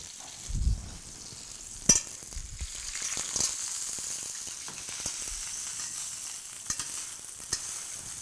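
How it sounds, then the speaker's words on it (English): Pork tenderloin searing in a pan, a soft steady crackle and sizzle with occasional sharper pops and a few low knocks, fairly quiet overall. "Looks like that meat is really searing just perfect"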